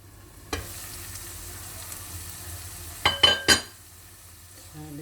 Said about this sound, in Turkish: İyice onları da kavuracağım bezelyenin içinde.